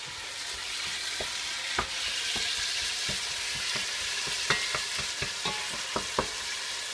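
Rice with vegetables and meat sizzles steadily in a pan while being stirred, a continuous frying hiss broken by repeated sharp scrapes and clicks of the utensil against the pan.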